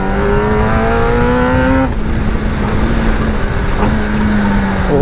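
A Kawasaki ZX-10R motorcycle engine revving up loudly at close range, its pitch climbing steadily, then dropping back to a rough, sustained idle with a brief blip.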